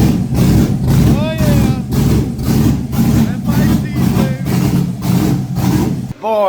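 Chevrolet S10 drag car engine idling close up, a steady heavy low rumble with a lumpy rhythmic pulse, running continuously before cutting off near the end.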